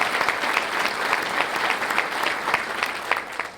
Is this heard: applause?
yes